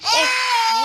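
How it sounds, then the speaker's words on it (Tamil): A baby cries in a loud, wailing burst close by, one sustained sob rising and falling over less than a second. "என்ன ஆகுது குழந்தை அழுகுது"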